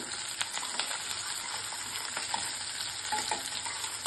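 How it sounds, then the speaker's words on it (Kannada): Cashews and curry leaves fry in hot oil in a pan while cooking bisibelebath, a steady close sizzle with small crackles and pops throughout. "ಕರಿಬೇವು ಹಾಕ್ಕೊಳ್ತಿದ್ದೀನಿ. ನೋಡಿ, ಗೋಡಂಬಿ ಹಾಕ್ಕೊಳ್ತಿದ್ದೀನಿ ಒಂದು 10-12. ಫ್ರೈ ಮಾಡ್ಕೊಳ್ಳೋಣ."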